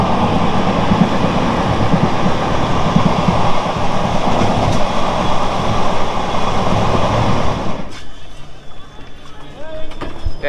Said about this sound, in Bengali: আর এখানে আমাদের ট্রেন চলতেছে 95 কিলোমিটার গতিতে